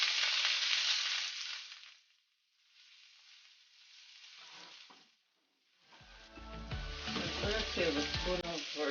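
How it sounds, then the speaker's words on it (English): Onions sautéing in two tablespoons of virgin olive oil, a steady sizzle with stirring that dips briefly twice, then swells louder with clattering stirs in the pan near the end; no voices. "I'm gonna add my onions. Add some virgin olive oil."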